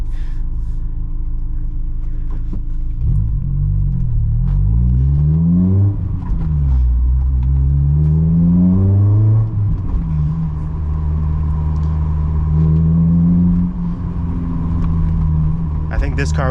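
A car engine revs and accelerates through several rising gear pulls, loud and close, with a steady rumble between and a voice speaking briefly.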